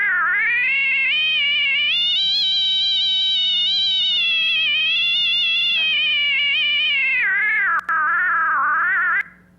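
A synthesized tone with a smoothly wavering pitch, rich in harmonics, sounds much like a long drawn-out cat meow or caterwaul, loud and continuous for about nine seconds before cutting off.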